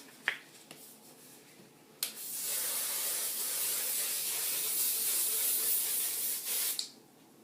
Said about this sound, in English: Then simply finish off with hairspray and you're good to go.